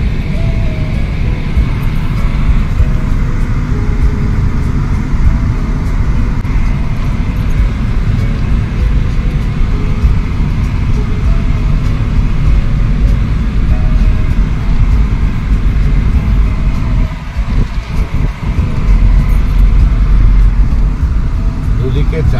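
A car drives along a rural dirt road between farm fields, with a loud, steady engine drone and road rumble from inside the vehicle, a brief dip and bump near the end.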